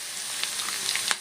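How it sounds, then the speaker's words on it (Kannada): Garlic, mustard seeds and curry leaves frying in hot oil in a pan, a brief, close crackling sizzle with small pops. "ಇದು ಚೆನ್ನಾಗಿ ಫ್ರೈ ಆಗಬೇಕು."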